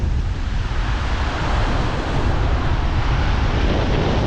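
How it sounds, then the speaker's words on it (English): Strong wind roars steadily at Cape Phuket, Thailand, in the rainy season, a dense broadband rush buffeting the microphone, with a low constant rumble and no voices. "very strong wind right now"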